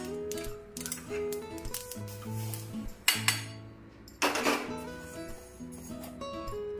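Roasted sesame seeds poured and scraped from a metal pan onto a plate, with a run of light clinks and taps, a couple of louder metallic knocks, and a faint tonal hum underneath.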